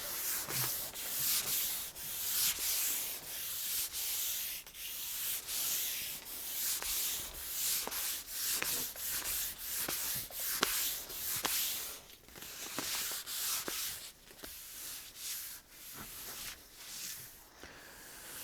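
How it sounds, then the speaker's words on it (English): Fine 2000 grit sandpaper rubbed by hand across wood after a 220 grit pass, a steady stream of close, rhythmic scratchy strokes with no talking. "I'm done with the 220 grit, and I'm now going to 2000 grit."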